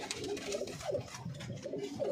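Soft, repeated cooing of a pigeon, a few low throaty calls in a steady rhythm, close by against a quiet background hum.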